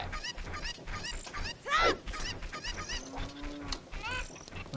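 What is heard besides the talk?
chickens (Cuccos) clucking in Zelda Ocarina of Time video game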